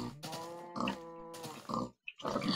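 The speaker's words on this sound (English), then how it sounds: "I'm gonna punch this pig to death." A pig in Minecraft grunts and oinks repeatedly, close and clear, in short bursts with a brief silence near the end.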